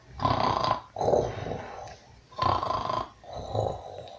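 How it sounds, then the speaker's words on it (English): Deep, rumbling snores come in four long, heavy breaths, loud and close, with short quiet gaps between each one. "the giant became sleepy and began to snore"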